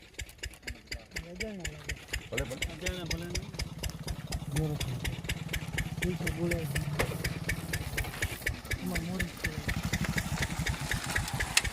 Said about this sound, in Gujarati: બાઇક આવે છે બાઇક આવે છે